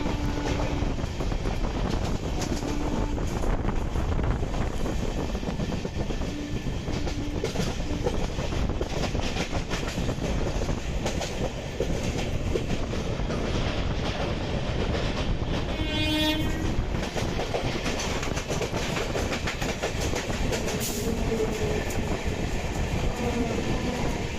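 An Eastern Railway local train rumbles past at close range with a steady roar and wheel clatter, and a short horn blast sounds midway through the passage.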